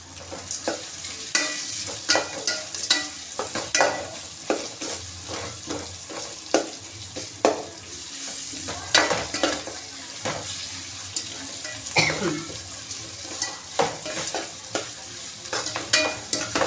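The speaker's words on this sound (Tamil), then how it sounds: "அப்போ தான் அந்த வெங்காயம் தக்காளி நல்லா வேகும்" Onions and tomatoes fry and are stirred with a utensil in a pan, with steady sizzling under repeated scraping strokes at close range, and no talking.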